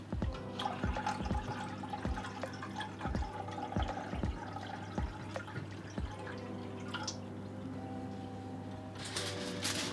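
Water trickling and dripping into a cooking pot while making Sri Lankan watalappam, a thin steady pour with scattered drips and clinks close by, brief splashy burst near the end.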